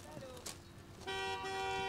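A car horn sounds on a street as traffic waits, a sustained toot that begins partway through and holds steady and loud, with people speaking around it.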